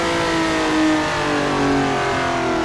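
Loud, sustained engine note of a racing car in Assetto Corsa, a Ferrari 330 P4 or Ford GT40 at Laguna Seca, revving steadily with slight swells.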